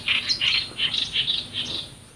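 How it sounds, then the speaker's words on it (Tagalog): A large bird calls near a fishing spot, giving a series of loud, clear chirping notes in quick bursts. The calls sound fairly close and are heard alone, with no talking. "Sobrang laki ng ibon mga idol."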